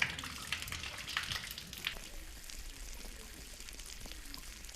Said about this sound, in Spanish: los niños se duchan, se hacen el lavado